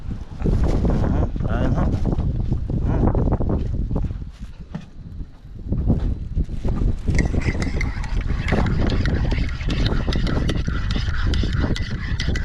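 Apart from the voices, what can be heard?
wind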